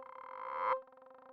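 A plucky J8 synthesizer note with fast TapPanZeit echoes bouncing left to right, a bright sustained tone that breaks off and leaves a quick stuttering trail of repeats.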